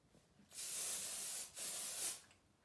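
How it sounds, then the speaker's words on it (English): Texture spray hisses onto short hair in two steady bursts of about a second each, separated by a brief pause, close and loud with no talking. "you can never have too much texture spray"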